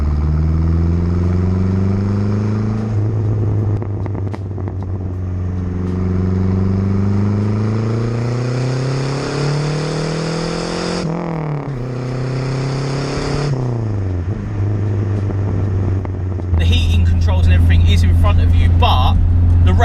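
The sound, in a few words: Renault 5 GT Turbo engine while driving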